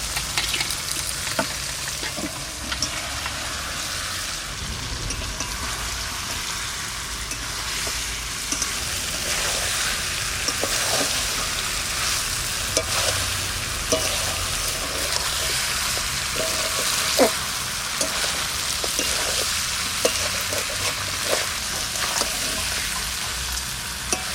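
Mutton curry fries in a pot, a steady loud sizzle that runs the whole time with scattered scraping and stirring clicks over it and no talking.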